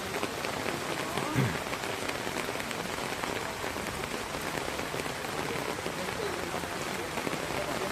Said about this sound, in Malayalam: മഴ നിൽക്കണമല്ലോ, മഴ സ്ട്രോങ് ആയിട്ട് തുടർന്നുകൊണ്ടിരിക്കുക.